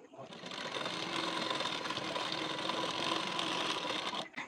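Sewing machine stitching a hook strip onto a size 40 blouse, a continuous fast mechanical whirr of needle strokes running evenly for several seconds before stopping, close and moderately loud.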